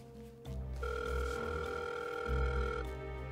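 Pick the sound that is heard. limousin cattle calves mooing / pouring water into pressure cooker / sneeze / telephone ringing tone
telephone ringing tone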